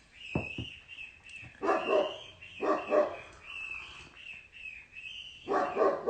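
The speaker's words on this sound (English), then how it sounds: "Every time my dog hears me say hello, like somebody's here, he starts barking" A pet dog barks indoors in bursts of several sharp yips and woofs, fairly close and loud, separated by short pauses, with a steady high-pitched whine or tone running underneath.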